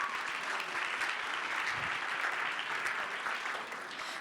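Sustained applause from the crowd at a handmade cosplay contest at a Japan Impact convention, a steady dense patter of clapping filling the room.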